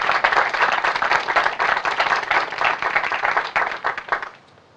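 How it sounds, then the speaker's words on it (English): Audience at a building dedication applauding Dr. Bob Jackson, a strong burst of many hands clapping close and steady before quickly fading out at the end. "Round of applause, please, for Dr. Bob Jackson"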